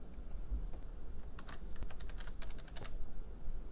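Typing on a computer keyboard while entering an Excel formula, a run of quick light key clicks clustered in the middle, close but soft over a steady low room hum, with no talking.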